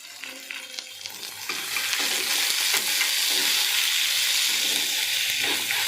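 Cashews tipped into a hot pan for paneer butter masala gravy, a few light clatters giving way to a steady, loud sizzle and frying hiss that fills the rest of the moment.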